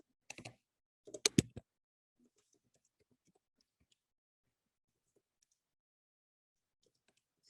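Two quick bursts of keystrokes on a computer keyboard as a terminal command is entered, close and crisp, followed by near silence with faint scattered clicks.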